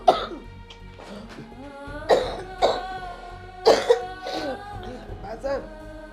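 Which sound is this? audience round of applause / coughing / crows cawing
coughing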